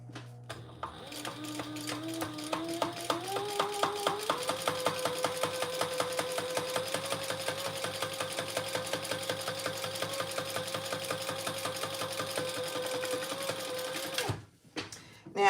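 Sewing machine top stitching a lining piece, a steady rapid mechanical chatter of the needle running for several seconds after a brief start, then stopping abruptly.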